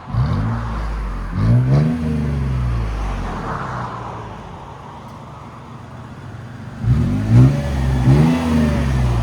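A Toyota FJ Cruiser 4.0L V6 with an MBRP cat-back exhaust revs twice with a throaty exhaust rumble, settles to a steady idle hum, then revs twice more, heard close from inside the car.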